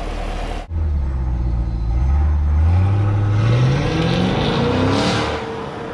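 A 2021 Chevrolet Camaro SS V8 convertible pulls away hard, its loud engine note climbing steadily through the revs with a throaty roar and a brief dip near the start, heard close with no talking.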